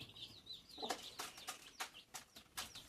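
Hens cluck in short, repeated bursts, fairly close, with chirpy calls from other birds underneath, no talking.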